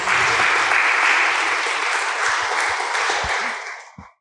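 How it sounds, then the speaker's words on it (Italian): An audience at a literary talk applauds to welcome a guest, dense clapping that thins out and fades, ending with a few scattered claps. "per questo incontro con Ilide Carmignani, che accoglierei con un applauso"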